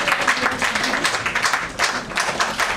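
Students clapping together in a classroom, a dense, steady patter of hands filling the room at close range for a few seconds.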